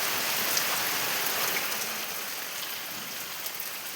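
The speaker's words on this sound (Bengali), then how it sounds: "দেখো কত জোরে বৃষ্টি এসে গেছে, দেখো কি জোরে বৃষ্টিটা এসছে" Heavy rain pours down steadily and fairly loud, a dense, even hiss of drops drumming on surfaces with no voices.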